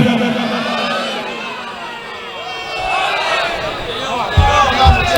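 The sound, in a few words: crowd shouting the slogan Haidari in reply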